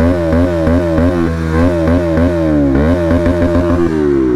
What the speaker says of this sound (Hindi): और बाइक का साउंड सुन लो